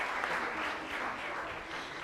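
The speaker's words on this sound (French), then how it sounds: "Applaudis au moins, s'il vous plaît." An audience claps together at the finale of a competition, a dense, steady wash of applause lasting the whole time with no voices on top.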